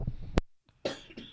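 A man coughs sharply at close range, with one hard burst followed after a brief pause by a couple of rougher, throaty coughs.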